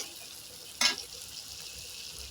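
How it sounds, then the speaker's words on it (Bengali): Spice paste fries in oil for a rita fish curry with a soft, continuous sizzle. A short, louder spatter bursts out early, then it settles back to a quiet, even hiss. "তেল না বেরোনো পর্যন্ত মশলাটাকে ভালো করে কষাতে হবে।"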